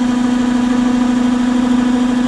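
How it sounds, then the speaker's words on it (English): A 2008 Mercedes E350 engine idles steadily with a low, even hum and faint vibration, close by and continuous throughout. "I've got the engine running, as you can tell"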